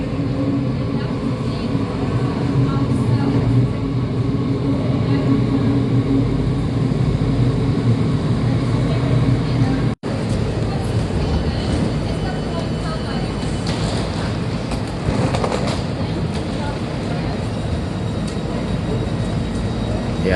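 A train pulls into a station in Germany, a steady low rumble and rolling hum with brief clatter, heard from nearby under intermittent voices.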